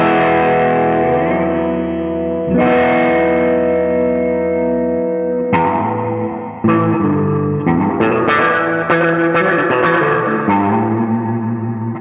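Electric guitar through an Empress reverb pedal with mix and decay turned up: strummed chords ringing out into long, dense washes of reverb, then a flurry of quicker notes smeared together, loud and close with no talking.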